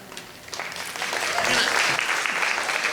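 Applause at an Impact100 Northwest Florida annual meeting, a crowd clapping that starts light and swells to a steady, dense roar of hands over the closing seconds.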